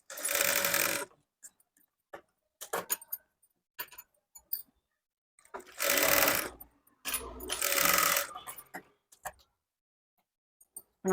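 A sewing machine stitches a dart on a lined blouse in several bursts of rapid whirring, two of them longer runs. Short clicks and handling noises fill the pauses between bursts.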